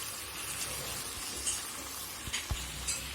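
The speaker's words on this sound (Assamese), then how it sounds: "এনেকৈয়ে কম চিমত মই এইখিনি ভাজি ভাজি সিজাই ল'ম।" Duck meat and pumpkin frying in a pan on low heat, a steady close sizzle with faint stirring scrapes and a few soft clicks, no voices.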